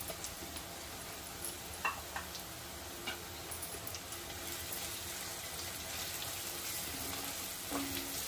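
Turmeric and homemade Koli masala frying in hot oil for an aubergine and potato gravy: a faint, steady sizzle with scattered small ticks and clicks, no voices.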